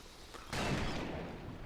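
Gunfire from the western shooter video game Call of Juarez Gunslinger, a sudden loud burst that stays as a dense, sustained rumble of shots and booms for over a second, with no talk.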